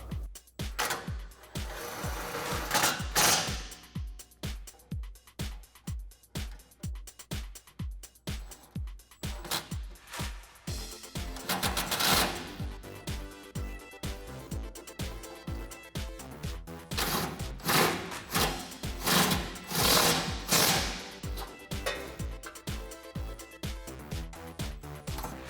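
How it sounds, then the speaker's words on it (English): A ratchet with a 10mm socket and extension tightens an exhaust bolt on a Jeep Gladiator JT. Close, rapid, evenly spaced clicks come in repeated bursts with short pauses between strokes, and no talk is heard. "you might need an extension on your 10mm socket to tighten this one up, as well as a swivel socket"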